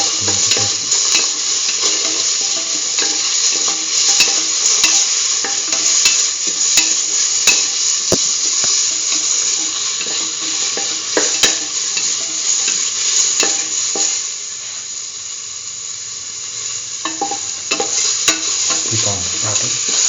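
Tomato pieces sautéing with salt and orange sauce in a pan for a corn coconut milk rice, giving a loud, steady sizzle with scattered clicks of a stirring utensil against the pan throughout.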